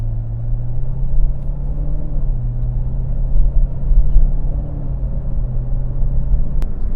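A Chevrolet Corvette C7 Z06 sets off on a drive, its engine giving a steady low rumble inside the cabin that shifts slightly in pitch as it rolls along, with no talking.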